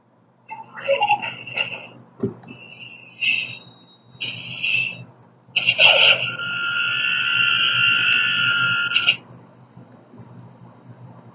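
Star Wars Force Link bracelet toy plays electronic sound effects: chirpy bleeps, a short warbling burst, then a long sustained electronic tone around the middle, fairly close and loud with quiet gaps between.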